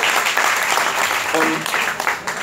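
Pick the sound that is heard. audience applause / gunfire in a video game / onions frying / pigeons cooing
audience applause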